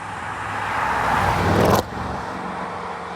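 A Mercedes-AMG E63 with a hand-built V8 drives past, its engine note and road noise swelling over about two seconds before cutting sharply down to a quieter steady hum.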